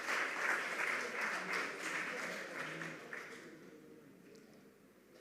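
Audience at a school quiz competition clapping for the contestants, a full round of applause that starts strong and tapers off toward quiet over about five seconds.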